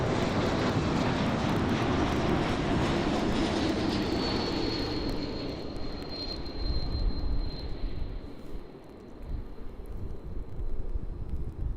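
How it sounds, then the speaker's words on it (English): An Embraer E190 E2 jet on approach to Amsterdam airport, arriving from Bordeaux, roars loudly and steadily for the whole stretch, with a high engine whine rising through the middle and some wind noise, before the sound eases a little toward the end. "And we have on approach an Embraer E190 E2."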